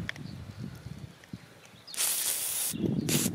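WD-40 lubricant sprays onto stiff, rusty bolts on a horsebox being converted, coming as a close hissing burst of about a second, then a short pause and another spray, after quiet handling noises.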